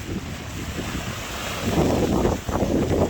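Rough water on Taal Lake with large waves churning and surging, mixed with strong wind buffeting the microphone.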